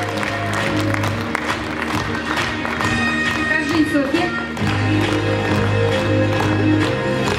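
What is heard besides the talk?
applause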